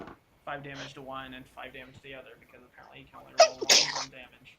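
A single sharp sneeze bursts out near the end, close and loud, right after a stretch of calm tabletop-game talk indoors.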